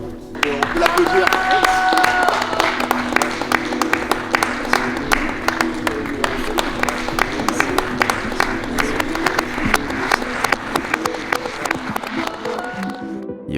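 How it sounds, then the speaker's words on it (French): Spectators at a backyard ultra trail race applaud a runner, steady dense clapping and crowd noise sustained throughout, with some voices mixed in. "On peut l'applaudir."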